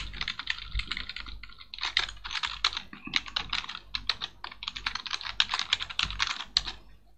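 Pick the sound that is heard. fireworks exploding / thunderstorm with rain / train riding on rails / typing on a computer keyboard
typing on a computer keyboard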